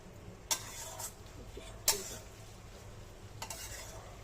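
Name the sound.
raw papaya shukto cooking in ghee, being stirred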